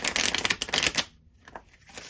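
Tarot cards shuffled by hand, a dense rapid riffling burst for about a second, then quieter scattered card slaps and rustles.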